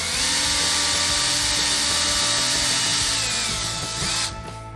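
A power drill pilot-drilling holes in a box for a 12V external box, a loud, continuous high whir at steady speed for about four seconds, then winding down and cutting off near the end.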